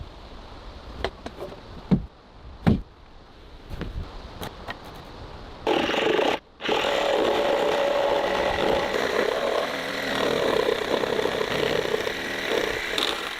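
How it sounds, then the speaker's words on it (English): Wood is cut for a porch staircase on a hand-built wooden house. A few sharp knocks and taps come first, then a loud, continuous power-saw roar that breaks off briefly and runs on steadily to the end. "The wood is being cut to precise measurements and installed step by step for the staircase"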